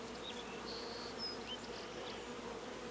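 Honeybees buzzing around a hive where comb is being built, a steady soft hum with a few brief higher whines of individual bees passing close, no talking.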